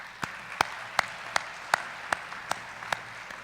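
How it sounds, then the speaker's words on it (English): Claps at an awards evening for nominees, a slow, steady series of about nine crisp, evenly spaced hand claps over a quiet room hum. "how about a round of applause for all the nominees tonight?"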